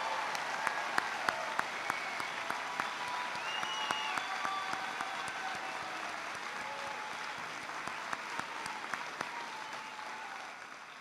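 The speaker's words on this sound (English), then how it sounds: "Please give a huge round of applause to Claire McCaskill." Sustained audience applause and cheering fills a town hall in Arnold, Missouri, a dense steady clapping with occasional whoops that carries on for several seconds.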